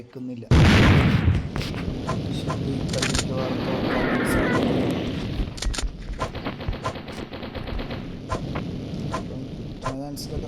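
Automatic gunfire in a forest-set video game bursts in loudly, then rattles on as rapid, sustained shots and impacts.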